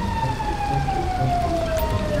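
A fire truck siren wails steadily in the GTA 5 video game, its long falling tone sounding loud and close over a low traffic rumble for the whole stretch.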